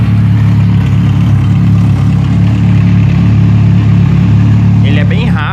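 Loud, close running of a Yamaha XJ6 motorcycle engine just after startup, with a steady idle rumble and top-end valve noise, and a brief voice near the end.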